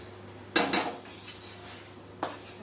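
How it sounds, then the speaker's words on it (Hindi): A spoon scrapes and clinks against a pan while atta is stirred for gond laddu, two short loud bursts with a faint steady hum between them and no voices. "तरह से चलाते रहेंगे, नहीं तो आटा नीचे से लगने लगेगा।"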